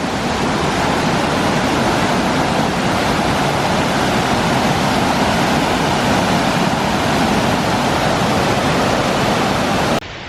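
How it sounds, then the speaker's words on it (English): Water pours into the water wheel at Eskdale Mill, making a loud, steady, close rushing roar that does not change for the whole stretch. There is no talk. "so this is where the water comes in for the water wheel."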